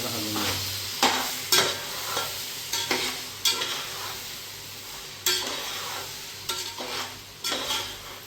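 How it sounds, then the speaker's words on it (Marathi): Ginger garlic paste sizzles in an oily pan while a spoon stirs it, giving a steady close fry broken by repeated scraping knocks against the metal, with no talking. "चांगला हलवून घ्यायचं."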